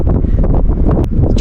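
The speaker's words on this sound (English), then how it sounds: "It's too windy." Strong mountain wind buffets the microphone in a steady, loud roar with low rumble and gusting bursts, filling the whole stretch without pause.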